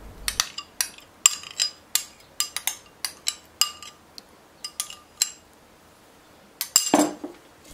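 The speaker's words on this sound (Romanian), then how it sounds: "Amestec cu telul pentru a încorpora și iaurtul." A wire whisk clinks against a bowl while yogurt is mixed into cornmeal cake batter with cheese pearls, a run of sharp metallic taps in uneven rhythm, close and fairly quiet, pausing briefly before a few last strokes.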